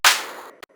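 A single sharp clap sample, a bright noisy burst that decays over about half a second, followed by a quick softer second snap and a faint tail, heard alone.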